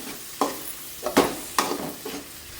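Tomatoes frying on low heat in a pan while being stirred: soft sizzle beneath four distinct scraping stirs spaced about half a second to a second apart, close and clear, no talking.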